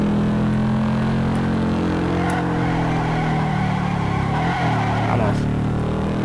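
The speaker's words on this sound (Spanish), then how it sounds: "Un lindo derrape" Racing-game car in Ford Racing 3 sliding sideways across dirt and asphalt, with a steady loud engine drone and a rising skid squeal near the end, heard alongside a voice speaking.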